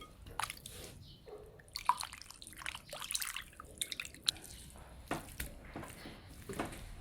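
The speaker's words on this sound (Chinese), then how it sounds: "切好的牛肉用清水洗一遍" Cut beef rinsed with clear water in a bowl, irregular close drips, splashes and wet squishes scattered across the clip at low level.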